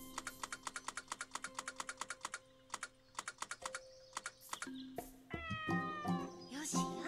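A cat meows in the farming game Doraemon Story of Seasons, a few short clear mews following a rapid run of clicking, typing-like ticks, with a louder, drawn-out caterwaul near the end.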